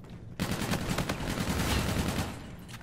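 Rapid automatic gunfire in the shooter game Call of Duty: Infinite Warfare bursts in after a brief quiet start and continues as dense, loud, sustained fire.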